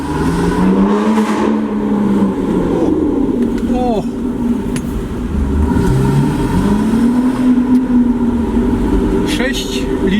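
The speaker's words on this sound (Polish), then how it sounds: "silnik V12, dlatego on tak brzmi." An Aston Martin Vanquish S Ultimate's V12 engine revs and drones continuously, pitch rising and falling as it accelerates, loud and close with a low rumbling undertone.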